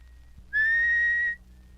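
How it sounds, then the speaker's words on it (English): A single steady intake whistle, drawn in through the lips, rises into a clear, loud, pure tone held for just under a second, then stops abruptly in a quiet room. "Now add a simple intake whistle"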